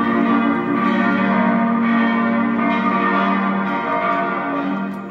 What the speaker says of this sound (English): half of Liechtenstein enjoys hearing the bells ring at midday from this comparatively little cathedral